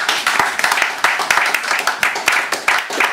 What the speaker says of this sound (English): And give her more applause, please.